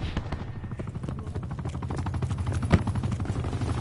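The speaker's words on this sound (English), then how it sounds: "I got a helicopter." Helicopter rotor chopping steadily in a Call of Duty Black Ops 4 match, a low rhythmic thrum held at moderate level with a brief sharp crack partway through.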